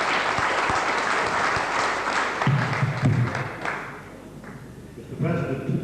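Audience clapping at a 1982 town club awards dinner, a dense steady round of applause from a large room, easing slightly before picking up again, with voices mixed in beneath it.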